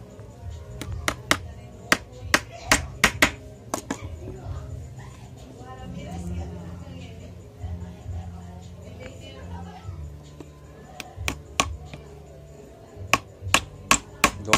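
Hammer driving nails into a milk can while building a toy motorcycle: sharp metallic taps in quick bursts at the start and end, with a person talking in between.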